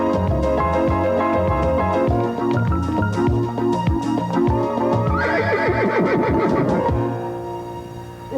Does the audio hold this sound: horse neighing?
yes